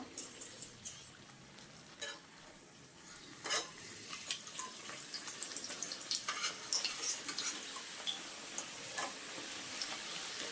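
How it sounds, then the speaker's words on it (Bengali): Potato and chicken snacks fry in oil over medium-low heat, giving a quiet, steady sizzle with scattered soft bubbling pops and a few light clinks of utensils against the pan. "চুলার আঁচটা মিডিয়াম টু লো রেখে নাস্তাগুলো ভেজে নিতে হবে।"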